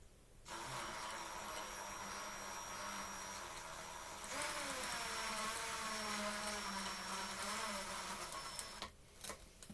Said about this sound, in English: we're going to go ahead and install the screws